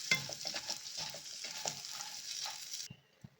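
Grated coconut frying in a pan with turmeric powder for hotel-style tomato bath, a soft steady sizzle with light stirring scrapes, close and quiet, fading to near silence at the end.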